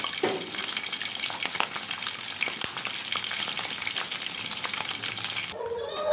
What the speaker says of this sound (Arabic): وهنا بنحمر البط معاكم اهو بعد ما استوى